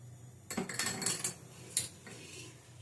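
A spoon scraping and clinking against a metal cooking pot while stirring cooked dal, a few brief clattering strokes close up in a quiet kitchen.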